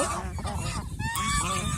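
Domestic geese honk together at close range, a dense overlapping chorus of harsh nasal calls with one higher, drawn-out honk rising above the rest.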